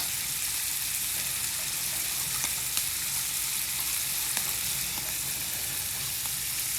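Garlic and onions fry in a pan while cooking giant clams, a steady close sizzle with a few small pops and stirring clicks throughout, no talk.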